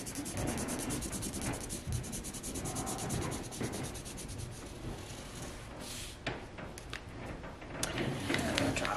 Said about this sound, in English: I'm gonna draw one up the center here